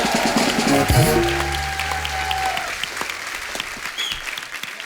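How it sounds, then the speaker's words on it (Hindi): A studio audience at a comedy talk show breaks into loud applause that fades slowly, with a low musical tone swelling underneath early on. "इनके लिए जोरदार ताली हो जाए।"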